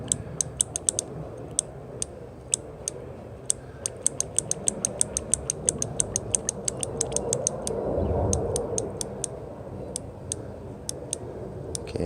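Light metallic ticks from repeated tapping on a trail bike's hand brake lever while bleeding air from the master cylinder, quick irregular clicks close by over a low background rumble.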